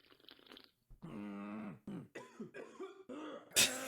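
A person coughs up close in a few short, harsh bursts with throat-clearing between them, loud and dry against a quiet indoor background.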